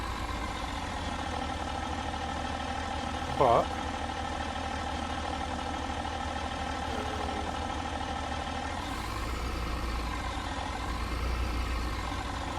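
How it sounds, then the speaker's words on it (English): Virtual tractor engine in Farming Simulator 19 runs at a steady, continuous drone throughout, with a brief louder blip early on and a voice talking over it. "I've never actually used this tractor in game."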